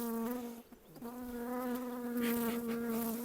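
Honeybees at an open hive buzz in a steady, dense drone, close and continuous, with a few soft bumps and rustles.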